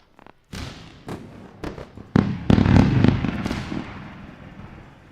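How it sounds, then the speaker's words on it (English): A fireworks sound effect plays in a trading platform during a live NQ futures day-trading session, with several sharp pops followed by loud booming bursts and crackle that fade away, all fairly loud and without talk. "Let's go with another round of fireworks."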